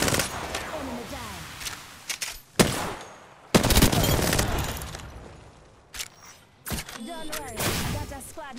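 Gunfire in an Apex Legends match on PS4, with bursts of automatic fire and sharp loud shots coming in clusters, some sustained rattles and separate single cracks, along with thuds and other game sounds.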